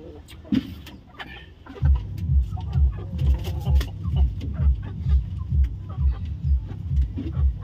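Chickens around a nesting spot cluck in the background while a loud, rhythmic low thumping pulses steadily through most of the stretch, with a few sharp knocks early on.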